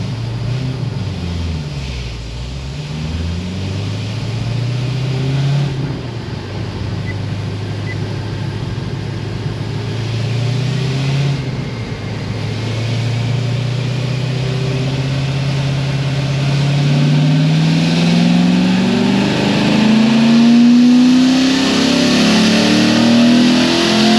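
A stage 4 C6 Corvette Z06 engine revs up and down loudly up close, a steady throaty drone that climbs in pitch toward the end and holds high.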